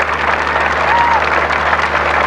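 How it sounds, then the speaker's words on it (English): Standing crowd applauding the royal couple at a 1988 Australia Day ceremony, a dense, even patter of clapping from many people, fairly loud and continuous throughout. "They're spontaneously standing and applauding as they cross in front of the Royal Defence Force Guard"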